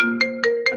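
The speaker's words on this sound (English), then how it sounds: "Sorry about that. That was my phone." A mobile phone ringtone sounds close and clear as three evenly spaced bursts of bright electronic tones over a steady melodic chime, with no talking.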